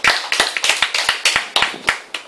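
Hands clap in quick, rhythmic bursts during a classroom lecture, each clap sharp, close and loud, with about a dozen claps over a couple of seconds and no talking.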